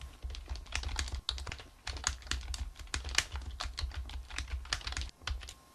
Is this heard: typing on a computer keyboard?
yes